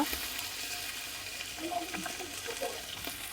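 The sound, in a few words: adding green chilies and spice pastes to cooking raw jackfruit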